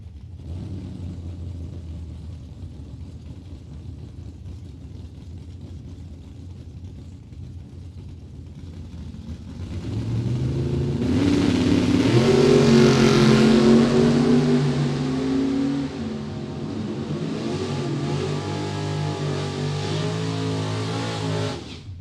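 Drag race cars, including a Camaro, launch at a Super Pro event, engines rising from a low idle to a loud roaring run that fades gradually.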